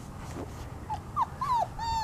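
Three-week-old puppies whimper and yip in several thin, rising and falling cries, close and fairly faint over quiet background noise.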